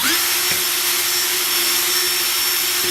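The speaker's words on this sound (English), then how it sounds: "Here I got two different type of jars and I'm just gonna drill a" An electric drill bores a hole through a glass jam jar lid, a steady, loud whirring hum with a faint whine that runs unbroken for about three seconds, with no talking.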